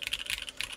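Typing on a Noxary X60 keyboard with Vintage Black switches and an aluminium plate, quick close clacking keystrokes in a steady run, crisp and alone.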